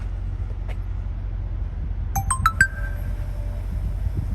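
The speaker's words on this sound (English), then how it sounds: "It turns on the ignition, it goes through all the procedures. You hear the whining and clicking and tacking." A 2022 Peterbilt truck started by remote: a quick cluster of electronic chimes and clicks from the cab, then a thin steady whine that lingers over a low background rumble.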